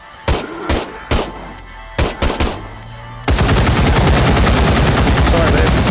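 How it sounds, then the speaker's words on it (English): Heavy mounted machine gun firing in the VR game Contagion VR Outbreak: a few loud separate shots, then an unbroken, very loud sustained burst of rapid automatic fire lasting several seconds, close up. "Didn't mean to shoot you with the machine gun."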